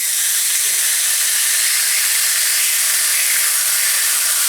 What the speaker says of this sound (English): Let's get our steak over here and just throw it in there and get it cooking.